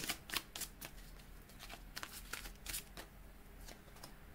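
Tarot cards being shuffled for a reading, a quick run of crisp riffling flicks and soft slaps repeating steadily at close range, quiet and alone without voices.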